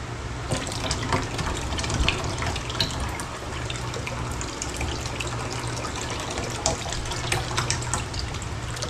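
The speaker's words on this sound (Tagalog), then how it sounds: "So, kada lata, lalagyan natin ng tubig." Tap water running steadily into cans in an apartment, a continuous close gushing and splashing with small changes in tone as the water level shifts.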